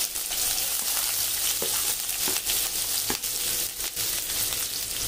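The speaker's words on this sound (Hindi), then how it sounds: "अपना तेल गर्म हो गया है, अपने डालेंगे 1 चम्मच जीरा, 2 कटी हुई हरी, 1 मीडियम साइज प्याज" Cumin seeds, chopped green chillies and a medium onion frying in hot oil, a steady loud sizzle with occasional crackles and pops throughout.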